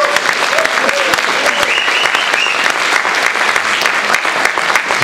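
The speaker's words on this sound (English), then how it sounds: "Give yourselves a round of applause." A concert audience at a folk music show applauds loudly and steadily, dense clapping filling the room close up for the whole stretch, with a voice faintly audible partway through.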